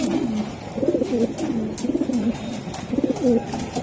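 Racing pigeons coo in soft, repeated throaty phrases close by, several overlapping birds with a low murmur of background noise and no clear talk.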